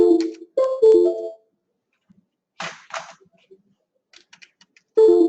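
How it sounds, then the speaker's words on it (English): Scattered clicks of typing on a computer keyboard come in short sparse bursts between stretches of silence, with a voice heard at the start and end. "the keyboard is not working"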